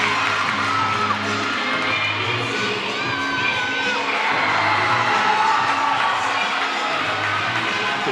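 A crowd cheers loudly and continuously through a gymnastics beam routine at a 2017 MAC Championships meet, with high-pitched shouts and whoops over dense arena noise and music.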